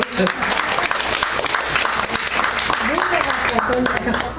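A church audience bursts into applause during a sermon, a dense burst of clapping mixed with a voice speaking over it.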